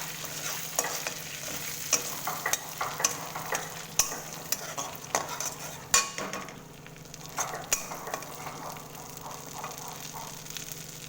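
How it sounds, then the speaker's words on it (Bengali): Green chillies fry in leftover prawn oil for a lau pata chingri dish, giving a steady loud sizzle broken by repeated scraping stirs of a spatula against the pan, with no voices. "সেই তেলের মধ্যেই আমি আগে কাঁচা লঙ্কা দিয়ে দেবো। চিড়ে কাঁচা লঙ্কা দিয়ে দিলাম।"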